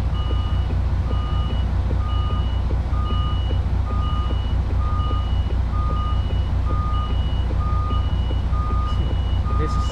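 An HGV truck reversing sounds repeated evenly spaced electronic beeps, about twice a second. They sit over a loud, constant low diesel engine rumble, close by, with a faint hiss near the end.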